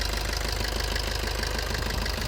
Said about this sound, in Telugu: ఇంజన్ సౌండ్ మాత్రం ఇట్లా ఉంది